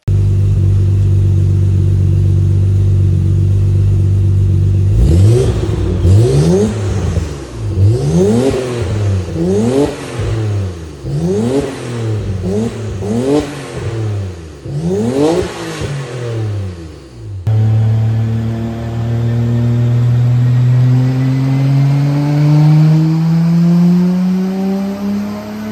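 A single turbo car with a Leakspec TitanRS twin muffler exhaust idles, then blips the throttle in a series of sharp revs rising and falling, followed by one long climbing rev, loud and close.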